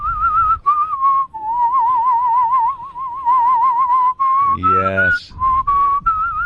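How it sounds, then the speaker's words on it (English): A person whistles while inhaling, a wavering melody with breathy, reedy tones, broken by a short burst of speech partway through. "Let's hear a little in whistling."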